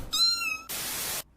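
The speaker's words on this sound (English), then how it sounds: "Watch out for that kitten!" A kitten gives one clear, high meow up close, followed by a short breathy hiss.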